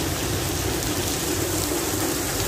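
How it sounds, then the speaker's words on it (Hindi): Heavy rain pours down steadily during a storm in Pakistan, a dense, loud, continuous hiss with no voices. "शदीद बारिश है"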